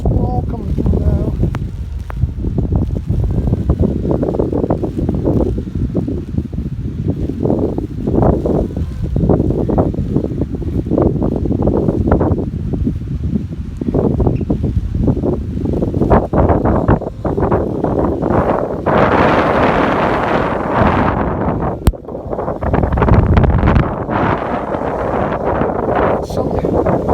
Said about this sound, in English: Looks like you're getting a little squall coming through now.